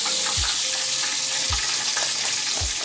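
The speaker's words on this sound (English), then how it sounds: "So I'm going to fry the rest of these pork chops" Pork chops fry in hot grease with a dense, steady crackling sizzle throughout, close and loud, broken by a few soft low thumps as the meat shifts in the pan.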